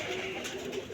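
Pigeons coo softly in a brief, faint burst of low murmuring calls, with no voices present.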